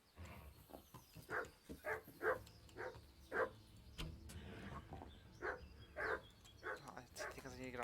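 Several dogs in the video game Kingdom Come bark in quick irregular bursts, fairly close, with a low rumble and some faint talk underneath.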